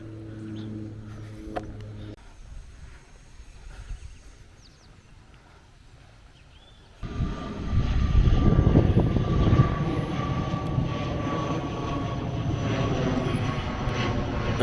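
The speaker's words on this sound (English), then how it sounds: "Let's see one of the Caribbean Airlines flights up ahead, landing at Ogle." A Caribbean Airlines passenger plane flies overhead on approach to land at Ogle, heard from the Demerara Harbour Bridge; its engine roar swells in loudly midway and stays as a steady, broad rumble.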